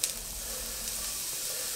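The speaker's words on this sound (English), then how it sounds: "You wanna hear the sizzling when you're cooking." Onions fry in a hot pan for Spanish rice, giving a steady, soft sizzling hiss close by with no talking.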